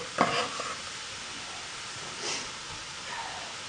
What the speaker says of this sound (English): Let's scoop up these onions.